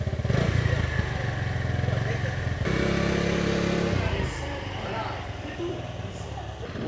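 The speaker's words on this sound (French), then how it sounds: "Première fois que Ticket fait de la moto." A motorcycle rides along at a beach in Mauritius, its engine a steady droning rumble that shifts in pitch partway through, with wind and background noise throughout.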